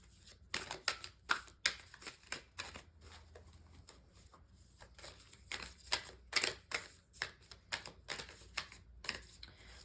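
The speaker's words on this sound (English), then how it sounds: "I don't want to shuffle for too long, so this will be my last one." A tarot deck is shuffled by hand in rapid, papery clicking bursts that rise and fall over a low background hum, close up with no voices.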